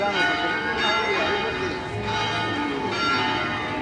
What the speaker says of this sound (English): so the bells are going off